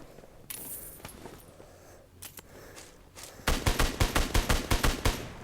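Video game gunfire: a few scattered clicks and shots, then a rapid, regular burst of loud automatic fire that runs through the last two seconds, close and without voices.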